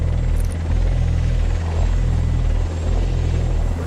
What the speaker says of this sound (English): An Apache attack helicopter arrives.